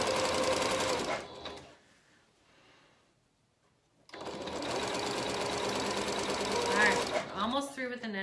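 A sewing machine stitches the neckline of a McCall's 7061 garment, running steadily, pausing for a few seconds of near quiet, then starting again in a long even run that ends with some handling noise.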